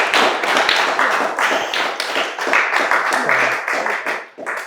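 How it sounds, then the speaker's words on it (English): An audience claps for a woman at a church relationship Q&A, a dense, steady burst of hand claps filling the room with some voices mixed in, fading briefly near the end. "just clap for her"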